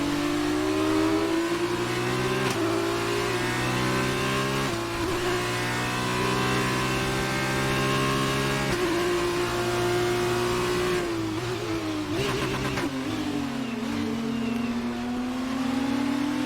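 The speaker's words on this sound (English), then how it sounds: "You hear the car revving." An F2 race car engine in F1 2019 at the Hungarian GP revs high and loud, its pitch rising and dropping sharply with repeated gear shifts and downshifts, sounding alone and close.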